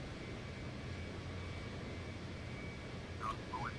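An aircraft in a flight video game rolls for takeoff, giving a steady, moderately loud engine drone that holds constant throughout, with a brief whistle-like tone near the end.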